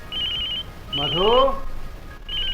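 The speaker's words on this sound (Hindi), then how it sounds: "मधु जरा फोन सुन लो।" An old-style telephone bell rings in trilling bursts, two rings and the start of a third, in a Hindi radio drama, with a voice speaking between the rings at close range.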